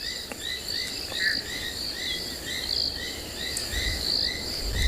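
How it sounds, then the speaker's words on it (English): Southern foam-nest frogs and sand frogs call in the South African bush on a morning after rain, a chorus of short repeated chirping notes over a constant insect-like background hum. "we can hear both southern foam-nest frogs and sand frogs calling"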